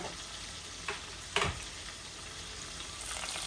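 Fenugreek seeds and bay leaf sizzle in hot oil for a fish fry, a steady faint crackling hiss with a couple of brief sharper spits partway through.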